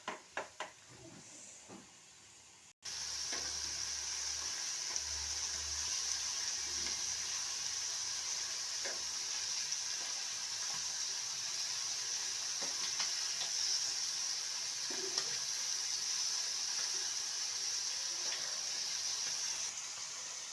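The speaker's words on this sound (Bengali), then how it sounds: "এখন বাটার দিয়ে আমি একটু ভেজে নেব" Chicken coated in a coriander, ginger, garlic and onion paste sizzles steadily in butter in a pan, a constant close frying hiss with occasional stirring clicks after a short quiet start.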